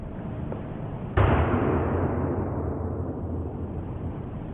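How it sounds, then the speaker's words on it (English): A single sharp gunshot-like bang cracks out suddenly, far off in an open outdoor setting, then trails into a long rumbling decay that fades slowly over several seconds. "Was that a gunshot?"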